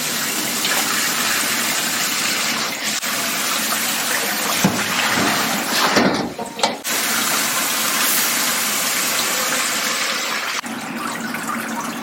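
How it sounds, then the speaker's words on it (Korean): Cold tap water runs steadily over thinned young radish greens in a Korean kitchen, a continuous close gushing stream with a brief interruption midway, no talking. "불을 꺼버리고 찬물에다가 흐르는 물에 한번 씻어주세요."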